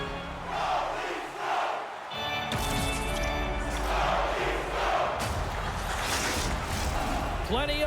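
A roaring arena crowd at an NHL 25 hockey game between the Boston Bruins and Toronto Maple Leafs on Xbox Series X, a loud sustained swell of cheering with sharp crashes mixed in.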